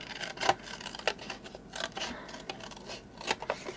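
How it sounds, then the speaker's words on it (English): Scissors cut roughly through a paper sentiment printed with Alice's Tea Party, making a string of close, crisp snips and rustles at an uneven pace, with no talk. "I'm just cutting it out quite roughly"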